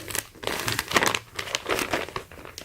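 Supreme zip lock plastic bag being handled, a dense run of close, crisp crinkling and rustling with uneven bursts throughout.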